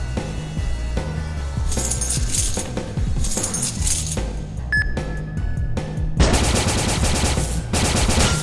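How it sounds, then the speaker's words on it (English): Rapid gunshots crack repeatedly in a shooter video game, with sharp metallic clinks and bursts of firing layered amid game effects, loud and continuous throughout. "A sniper rifle."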